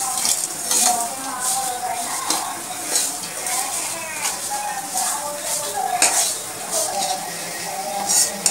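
Leftover rotis fry slowly with sugar in a pan over low gas, making a steady soft sizzle broken by repeated spatula scrapes and light metallic clinks, close and continuous.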